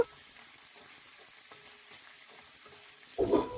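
Curry leaves and slit green chillies frying in hot oil for lemon rice, a soft steady sizzle with light stirring, then a louder burst of spitting near the end, no voices.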